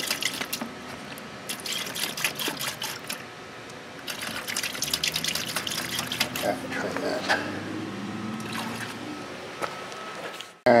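Yamaha 200 HP outboard head parts soak in an anti-salt liquid mix. Liquid splashes, trickles and drips close by in irregular bursts, with a faint voice in the background.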